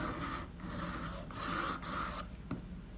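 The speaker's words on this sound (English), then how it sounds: "you're just gonna work it back and forth on the stone like this" A knife blade pushed back and forth across a sharpening stone, making several gritty scraping strokes in quick succession, close up and fairly quiet, with no voices.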